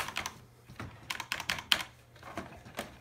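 Typing on a computer keyboard, with irregular clusters of sharp key clicks and short pauses between them, close and fairly quiet, with no voices.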